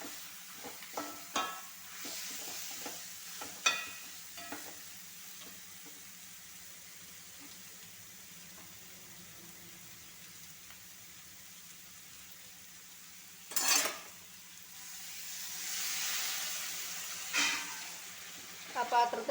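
Marinated chicken with onions frying in a pan, a soft steady sizzle under scattered clinks and scrapes of a spoon stirring, with a louder burst of sizzling partway through.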